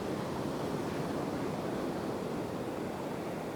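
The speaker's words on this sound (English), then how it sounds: "those waves out there are probably 5-footers" Ocean surf from Hurricane Idalia rolls onto the beach at Marco Island, a steady broadband wash of breaking waves mixed with wind rumble on the microphone and no voices.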